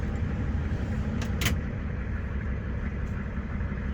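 A 1991 Ford F350 with the IDI diesel engine idles at about 700 RPM, a steady, close, low rumble with one or two brief knocks over it.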